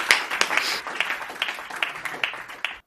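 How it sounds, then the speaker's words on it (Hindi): An audience at a Hindi kavi sammelan comedy poetry event claps to welcome a poet, with steady, moderately loud applause of many hands that tapers off at the end. "एक बार जोरदार तालियां बजाकर सुरेश यादव जी को निमंत्रित करिए।"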